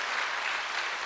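Congregation clapping together in a church service, a steady dense wash of many hands applauding close by with no talk over it.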